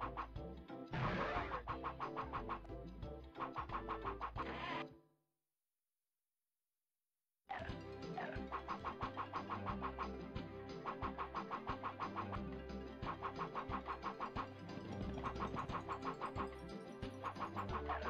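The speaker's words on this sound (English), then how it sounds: "Drive the tractor into the outhouse to knock it down." Tractor engine in the 102 Dalmatians: Puppies to the Rescue PlayStation game, a steady mechanical engine drone with layered game sounds, cut by a short silent gap before resuming just as loud.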